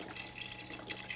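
Chicken stock pours steadily into a pot of tomato soup, a soft continuous liquid splash and gurgle, faint and close.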